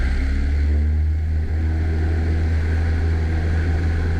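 A small airplane's engine runs at full power during a touch-and-go, a steady, loud, close drone with a deep throbbing hum and no talk.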